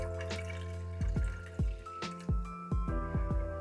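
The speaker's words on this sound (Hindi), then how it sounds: "अब इसमें जाएगा वाटर" Water is poured into a cooking pot of chicken shashlik gravy with ketchup and red chilli powder, giving a close series of gurgling plops and drips over a steady pouring hiss.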